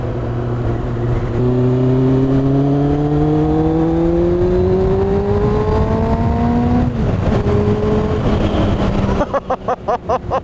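A high-mileage Kawasaki Ninja ZX6R motorcycle ridden on a road, its engine note climbing steadily through a long pull, briefly dipping for a gear change, then ending in a choppy burbling off throttle.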